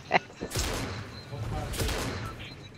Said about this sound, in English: Are you actually shooting us and interfering with our dance?